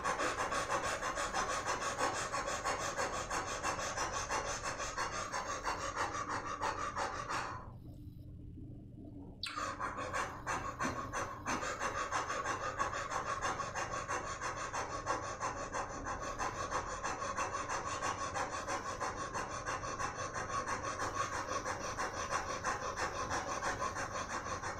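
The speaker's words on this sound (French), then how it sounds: "vous pratiquez la respiration du feu avec cette bouche en haut, en respirant donc par la bouche" Breath of fire in a Kundalini yoga session, with rapid, rhythmic, forceful breathing through the mouth. It runs close and steady for the whole stretch, broken only by one short pause, with no talking.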